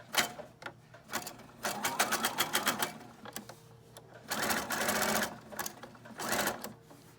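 A sewing machine stitches down scraps of fabric in several quick bursts with short pauses between, fairly quiet and close, the needle's rapid rattle clear.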